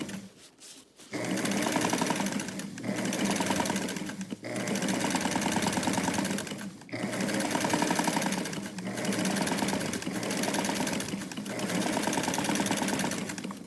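A sewing machine stitches a center back seam on a garment from an ensemble kit, running in several steady, close whirring bursts separated by brief pauses.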